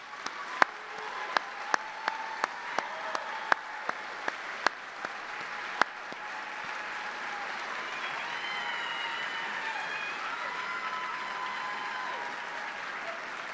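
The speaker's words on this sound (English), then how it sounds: "please join me in a round of applause for these 25 great soldiers" Audience applause at an Army retirement ceremony, opening with scattered individual claps that swell into steady, sustained clapping from a large crowd, moderately loud and continuing to the end with no talk.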